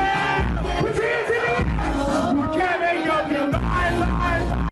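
A club crowd at a promoter's event yells and cheers in loud, dense waves of voices and whoops that keep going throughout.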